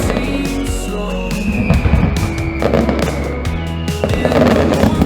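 Fireworks burst close by during a display, with repeated sharp crackling explosions over a steady rumble and a sliding whistle, loud and dense throughout with no voices.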